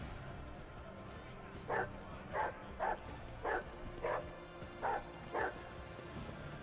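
A dog in Warhammer 40k: Rogue Trader barks seven times in short, evenly spaced yips over a low game ambience, moderately close and clear.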